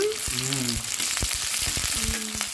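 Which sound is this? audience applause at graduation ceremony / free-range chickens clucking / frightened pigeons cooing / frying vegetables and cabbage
frying vegetables and cabbage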